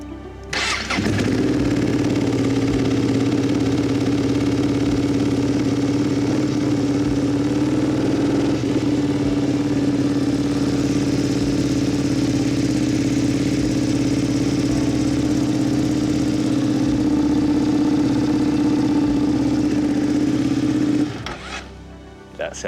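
A Ducati Panigale V2 motorcycle, rebuilt after a wreck, cranks and fires, then settles into a steady, loud, throaty idle close by for about twenty seconds before cutting off.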